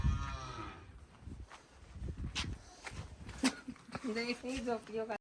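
A buffalo lows nearby, a deep drawn-out call near the end, with people talking and shuffling footsteps around it.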